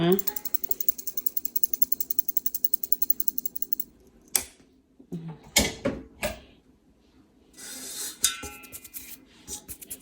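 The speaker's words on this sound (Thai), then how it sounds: "ร่อนแป้งนะคะ" A hand-crank flour sifter works bread flour for Belgian waffles, giving a fast, steady ratcheting click for about four seconds, then scattered knocks and scrapes of the bowl and utensils close by.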